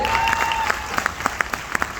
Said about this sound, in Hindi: उनके लिए भी एक बार जोरदार ताली होनी चाहिए।